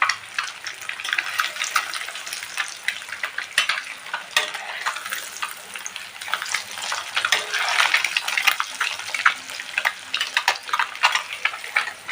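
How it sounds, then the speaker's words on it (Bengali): Eggs seasoned with turmeric and salt sizzle steadily in a hot pan, with repeated scraping and stirring as a spatula breaks them up. The frying is close and continuous, and no voices are heard. "একটু হলুদ নুন দিয়ে ডিমটাকে ভালো করে লাল লাল করে ভেজে নেব"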